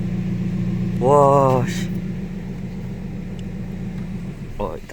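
A tuned 2020 MINI Cooper JCW engine runs at a steady low idle close by, with a person exclaiming over it near the start and briefly again near the end.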